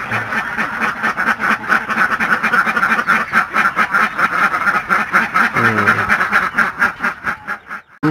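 Alabio ducks quacking in a dense, loud, continuous chorus of overlapping nasal calls at close range, with a brief murmur from a person.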